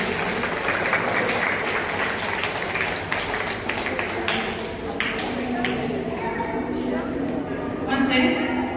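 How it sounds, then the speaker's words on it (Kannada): An audience at a Navarathri celebration applauds students called onto the stage, with dense, steady clapping sustained throughout and a swell near the end. "ಅವರಿಗೆ ಜೋರಾದ ಒಂದು ಚಪ್ಪಾಳೆನ ಕೊಡೋಣ"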